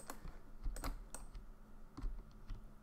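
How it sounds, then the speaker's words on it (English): Computer keyboard keys clatter in short irregular bursts of clicks, close and fairly quiet, with scattered single presses and pauses between, no talking. "I'm gonna enter snap mode by pressing S on the keyboard."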